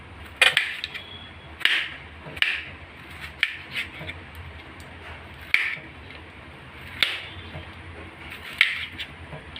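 Vegetables for a Kerala thoran being chopped with a knife on a board, giving sharp irregular cutting taps at close range with no talking.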